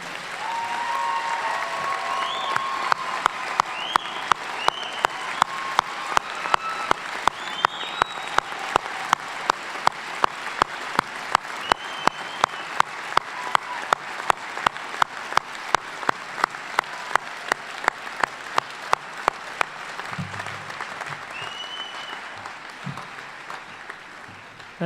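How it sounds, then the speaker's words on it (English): Sustained applause from a university pharmacy commencement audience, a broad wash of many hands that turns into slow, rhythmic unison clapping and then thins out toward the end, with faint voices and whistles mixed in. "Let's give them a round of applause."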